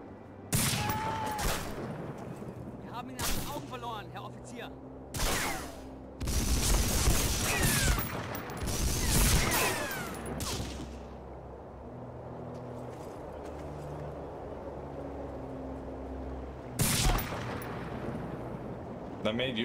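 Machine gun bursts and sniper shots ring out in the World War II game Medal of Honor: Frontline, loud volleys of gunfire in repeated clusters with pauses between, as someone speaks over parts of it.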